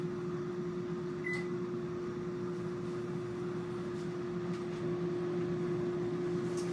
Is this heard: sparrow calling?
no